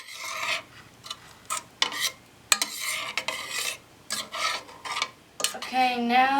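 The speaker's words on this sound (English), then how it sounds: "now I'm just stirring this on a medium-low heat" A spoon is stirred in a pot on a stove over medium-low heat, making short, uneven bursts of rasping scrapes separated by brief pauses, close and fairly loud.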